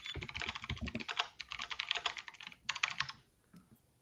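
Rapid keystrokes clatter on a computer keyboard in close, busy runs with brief pauses, then thin out into a few scattered taps at the end.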